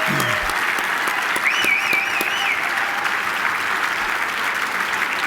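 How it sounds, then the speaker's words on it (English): An audience at a scholarship and auction event applauds student athletes in a sustained, dense round of clapping, steady and loud throughout, with a brief faint whistle partway. "give these guys a big round of applause"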